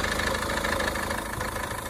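A Citroen Berlingo van engine idles with a steady, dense rattling clatter, loud and close throughout with no talk.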